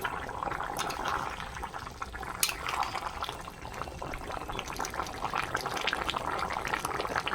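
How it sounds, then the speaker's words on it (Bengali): Potato and pumpkin curry simmers and bubbles in a pan while being stirred, a steady close wet bubbling with soft scraping, large pumpkin chunks and nearly cooked potato. "একটু নেড়ে দিই"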